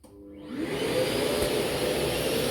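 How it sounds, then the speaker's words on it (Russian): A vacuum cleaner sucks dust out of a Toyota Prius 20 hybrid battery pack during repair, starting up and then holding a steady, loud roar close by with no talking. "Установкой батареи все пропылесосим, чтобы эту пыль обратно в батарейку всю не качнуло."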